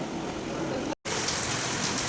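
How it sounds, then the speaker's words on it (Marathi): Heavy, steady rain hissing on surfaces nearby, dense and unbroken apart from a brief dropout midway. "पाऊस बघा हा पाऊस"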